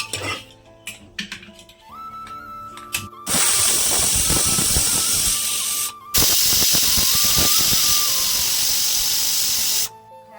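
A pressure cooker holding spiced tadka lets off loud, sustained bursts of hissing steam, two long blasts separated by a brief pause, preceded by clinks of pots and utensils in a home kitchen.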